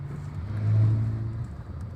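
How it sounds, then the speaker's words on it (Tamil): A 2018 Maruti Suzuki Ciaz smart hybrid's engine idles just after starting, a steady low rumble that swells slightly mid-clip, close and alone with no talking. "இப்போ பாருங்கள், இன்ஜின் லைவுக்கு வந்துருச்சு."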